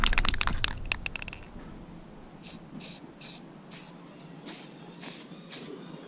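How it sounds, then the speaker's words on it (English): A can of Rust-Oleum 2X Ultra Cover paint and primer sprays onto raw metal in a row of short hissing bursts, following a quick clatter of handling noises at the start. "I got this Rust-Oleum 2X Ultra Cover paint and primer"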